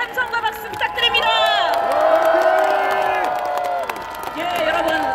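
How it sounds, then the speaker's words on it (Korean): A large crowd at an outdoor political election rally in Yongsan cheers and applauds loudly and steadily, with whoops and shouts rising through it. An amplified voice calls out over the noise. "큰 함성과 박수 부탁드립니다"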